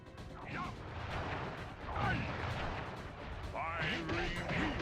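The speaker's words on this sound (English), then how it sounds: "I will send you to your doom with the beauty of my new firework technique, Flame Foo" Flame Foo firework attack in the Sly Cooper video game: booming blasts and crackling bursts with whistling, swooping effects, loud and continuous, with a voice talking amid the explosions.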